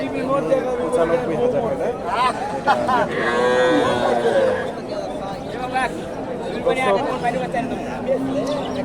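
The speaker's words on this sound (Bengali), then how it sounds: "এই যে গাভী আর এটা বকনা বাচ্চা" At a busy local cattle market, a cow gives a long, loud, drawn-out moo mid-way, and more bovine calls follow as people chatter and bargain nearby.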